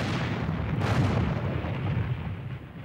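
A battleship's big gun firing, a loud, dense rumbling blast with a sharp crack near the middle that fills the whole clip, heavy and booming.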